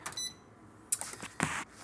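A kitchen timer being set while cooking salmon gives a few short electronic beeps and button presses, faint and sparse, with brief pauses of quiet between them and no talking.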